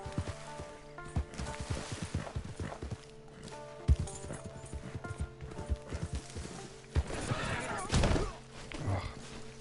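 Quick, uneven hoofbeats of a galloping horse in Red Dead Redemption II Online thud and clatter over steady background music, with a burst of rushing noise near the end.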